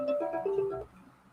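Phone ringing with an incoming call, a short electronic melody of a few quick tonal notes, fairly clear and close, fading after about a second.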